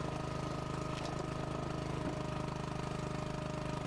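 A log splitter's motor runs at about a third throttle, a steady, even engine chug that continues unbroken, moderately close and fairly quiet.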